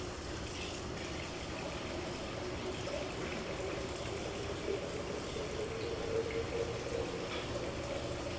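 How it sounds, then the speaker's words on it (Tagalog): Plates being washed under a running tap, a steady close rush of water with faint clinks, quiet and continuous with no talk. "Tayo ay maghugas muna ng plato"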